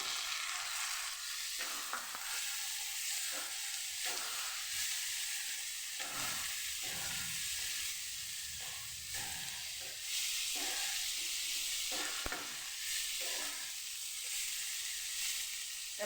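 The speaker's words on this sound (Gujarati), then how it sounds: "આપણી ડુંગળી સરસ સતળાવા માંડી છે તો હવે આપણે અહીંયા ટમેટા અડધા ઉમેરી દઈશું" Chopped onions and tomatoes fry in a pan with a steady, soft sizzle and hiss throughout, broken by a few brief scraping stirs of a spoon, with no talking.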